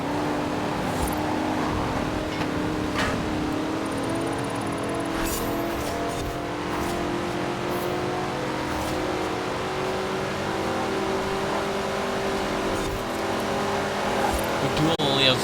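A heavy classic Pontiac Firebird American muscle car with four gears drones and revs in Forza Horizon 4, a steady, loud engine hum with slowly shifting pitch, and a voice talks over it.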